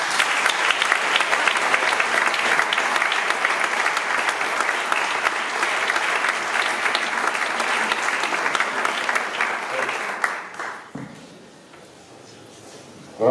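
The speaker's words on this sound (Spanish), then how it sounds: "Un aplauso." Applause at a university graduation ceremony: a hall full of people clapping loudly and steadily for about ten seconds, then the clapping quickly dies away into quiet room noise.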